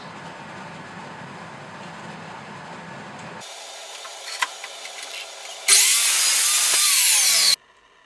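A power saw cuts wood set against a stop block for repeated cabinet box and shelf pieces. A low hum gives way to a brighter whine, then a loud, sustained cut of about two seconds before it stops abruptly.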